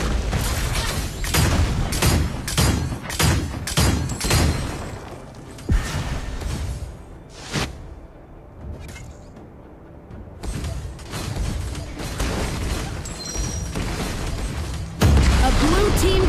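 Tower destruction in Arena of Valor (ROV), a burst of rapid crackling impacts and booms that drops to a quiet stretch, then resumes with further bursts and a closing thump, with an announcer's voice over it.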